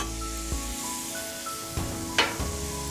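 Meat sizzling and frying on a Blackstone flat-top griddle for Philly cheesesteak, a steady close hiss broken by a few sharp clatters of a spatula on the steel.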